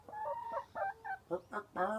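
Close, quiet clucking from chickens, a handful of short throaty calls in quick succession.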